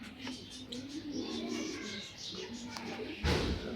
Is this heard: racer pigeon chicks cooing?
yes